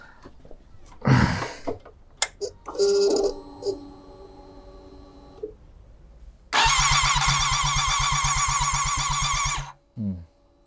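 A Suzuki motorcycle is cranked to start: a few short starter bursts and clicks, then a loud, sustained three-second grinding crank with rapid rhythmic pulses that stops without the engine catching, followed by a brief final whir.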